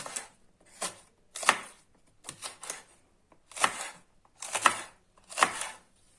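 Knife chops peppers into rings against a cutting board in short bursts, about eight crisp cuts at an uneven pace, close by with quiet gaps between.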